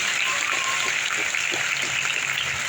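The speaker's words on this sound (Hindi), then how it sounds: "मैं जोरदार तालियों से स्वागत करता हूं" Steady, dense applause from a large crowd at a teacher's student meetup in Basti, India, continuous and even throughout with no pauses.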